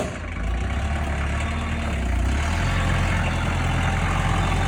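A forklift engine idles while gear is shifted around at a house, giving a steady, close, low diesel-like rumble that runs unbroken throughout with no voices.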